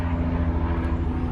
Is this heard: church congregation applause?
no